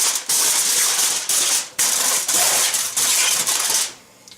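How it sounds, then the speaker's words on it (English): Tin foil crinkled and pressed into a metal rib rack or roast holder, loud close crackling bursts in several separate rustles, alone without talk. "Put a piece of tin foil in here."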